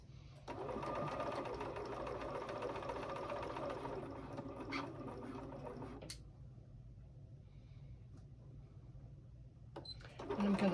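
A sewing machine stitching along the edge of a fabric Christmas pouch runs in a steady close whir for about five seconds, then stops, with a brief restart at the end.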